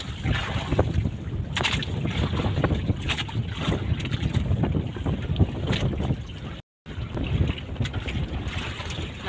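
Strong wind roaring over a small boat on rough open sea near an island, with steady gusty rumble, splashing water and brief buffeting of the microphone throughout, cut by one short dropout.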